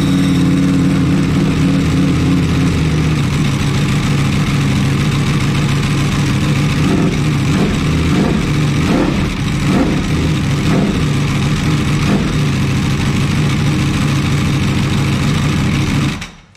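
A Ducati Panigale V4 R 2023 superbike engine with dB-killers fitted, loud and close throughout, idling steadily before a series of sharp throttle blips and revs in the middle, then cutting off abruptly at the end.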